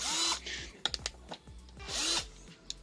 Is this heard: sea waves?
no